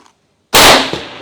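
A single loud rifle shot fired at a clay pigeon 1,000 yards away, heard as a sharp crack after a brief silence and followed by a decaying echo, with no talking.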